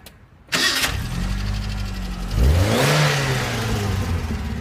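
A Ford car engine cranks briefly and catches, settling into a loud, rough idle before one strong rev swells and holds. It is close and steady, with no voices.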